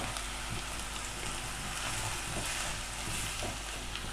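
Onions frying in a pan until translucent give a steady, soft sizzle that holds an even level throughout, with no voices.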